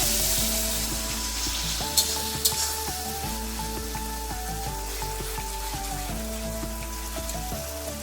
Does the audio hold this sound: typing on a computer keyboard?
no